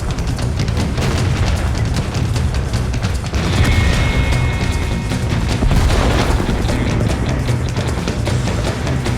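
Tank shells fire and explode in the World of Tanks video game, a dense, continuous wall of booms and rumbling blasts that stays loud throughout without speech.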